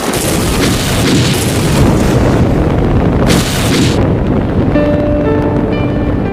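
A loud explosion in a Kamen Rider battle scene bursts as a dense, sustained roar of broadband noise, then gives way to fading ringing tones near the end.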